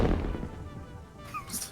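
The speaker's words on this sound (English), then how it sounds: "The explosion." An explosion in the video game Satisfactory hits as a loud, low boom at the start and rumbles down over about a second, followed by a few faint, high electronic tones near the end.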